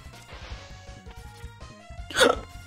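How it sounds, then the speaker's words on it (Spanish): A person hiccups once, loud and sharp, over the music and effects of the Mega Man X game playing in the background, following a busy stretch of game sounds. "Otra vez hipo."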